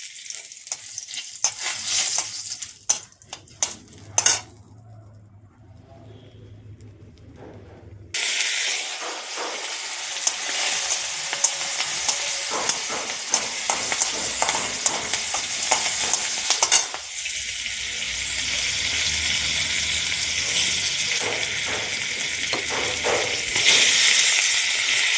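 Hot oil fries loudly in a pan while a soybean curry is cooked, with salt added to the oil to stop splattering; a steady hiss and crackle runs throughout, with short stirring clatters early on and no talking.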